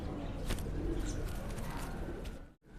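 Sialkoti pigeons, an old Rawalpindi breed, coo softly and steadily while being held in the hands, with some background noise and no clear talk.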